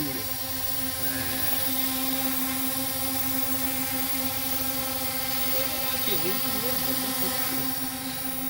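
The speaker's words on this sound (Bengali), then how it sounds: "mini drone" A small mini drone flying over an open field gives a steady, high-pitched motor whine with a prominent constant tone that wavers briefly near the end, while people talk close by.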